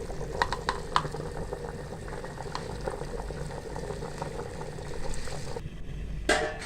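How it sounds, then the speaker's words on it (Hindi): Black pepper beef stock boiling in a pot, a steady bubbling and popping close up, with a brief clatter near the end. "काली मिर्च वाली यखनी अच्छी थी हमारी माशाल्लाह उबल चुकी है।"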